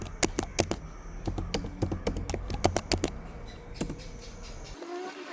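A password typed on a computer keyboard, heard as quick, close, crisp key clicks in irregular bursts that stop abruptly near the end, with no talking.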